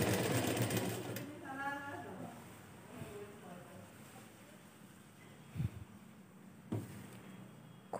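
An electric sewing machine stitching a cloth cupboard cover buzzes loudly at first, then settles into a softer, steady whir with a few sharp clunks. A voice is heard briefly.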